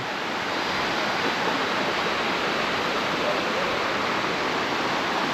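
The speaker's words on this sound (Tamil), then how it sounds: "தண்ணி பெருக்கெடுத்து ஓடுது" Water pours steadily down a waterfall on Langkawi, a dense, unbroken roar of rushing water that stays close and loud from start to finish, with no voices over it.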